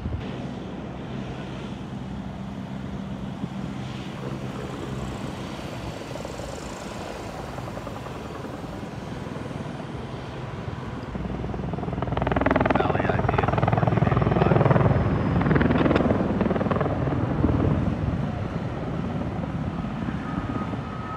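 A firefighting helicopter passes over a 300-acre wildfire in open space, its rotor thumping and engine roar swelling loudly midway before easing, with wind noise on the microphone and a person talking.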